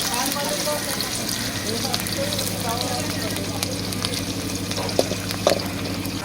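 Onions fry in hot oil in a pan, cooked until reddish while preparing food for a large group. A steady, close sizzle continues throughout with a few light clinks, and voices can be heard in the background.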